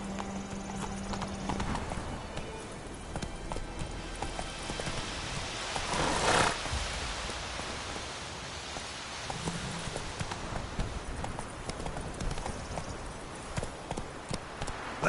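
Rhythmic clip-clop of horse hooves at a run in The Witcher 3: Wild Hunt, with rain falling throughout, steady and moderately close under the game's ambience.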